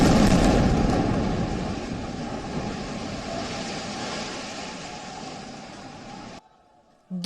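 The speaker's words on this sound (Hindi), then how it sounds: "पहला धमाका।" A heavy, rumbling air strike explosion that rolls on as a long low roar, slowly fading, then cuts off abruptly near the end.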